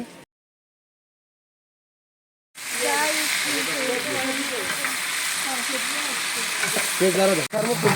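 Cardamom pods and cinnamon sticks sizzle in hot oil for beef tehari, starting after a few seconds of silence and then frying steadily with a broad hiss, close and fairly loud, with a brief dropout near the end.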